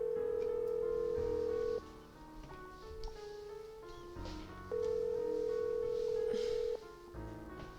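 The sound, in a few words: telephone dialing and ringing in Nancy Drew video game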